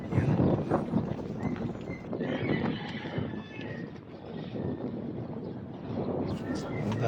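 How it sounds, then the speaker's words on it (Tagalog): Strong wind buffets the microphone in a steady, rough roar while flying a kite, gusts rising and falling, and a voice speaks faintly underneath. "Malakas ang hangin ngayon Jibris."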